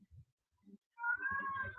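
A house cat lets out a drawn, tonal meow, faint and nearby, after a few soft rustling sounds.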